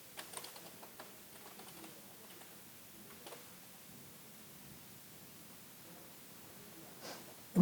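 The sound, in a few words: typing code on a computer keyboard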